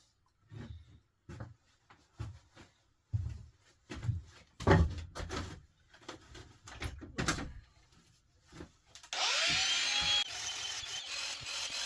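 Hand work on a stone sculpture gives a run of soft irregular knocks and scrapes, then a power tool starts polishing the stone with a steady high whir near the end.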